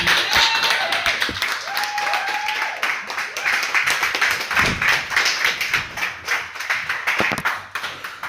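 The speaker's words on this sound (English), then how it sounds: "Please, a huge round of applause for AJ McKenna." An audience at a poetry reading gives sustained, loud applause, with dense clapping throughout and a few brief whistles rising above it.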